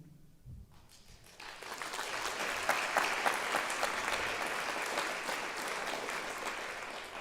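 After a brief quiet moment, applause from the audience at a high school graduation ceremony swells up and carries on steadily, dense clapping heard from a distance through the hall.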